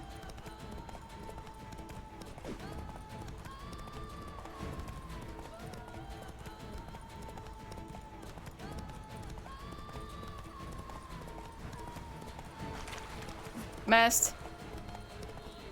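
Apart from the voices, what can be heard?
horse galloping in video game The Witcher 3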